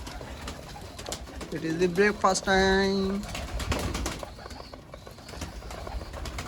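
Pigeons gathering at a feeding spot coo in a rising, throaty call, with faint wing flutters and a voice speaking nearby.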